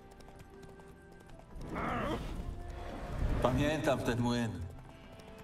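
The horse Roach's hooves clip-clop in The Witcher 3 as it walks, a steady, moderately close rhythm with someone speaking over it.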